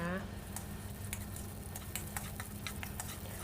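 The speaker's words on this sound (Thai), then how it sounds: "ใส่น้ำมันลงไปค่ะ แล้วก็ตามด้วยพริกกระเทียมนะคะ" Chili and garlic fry in oil in a wok with a steady sizzle, with scattered ticks of stirring on top and a faint voice underneath.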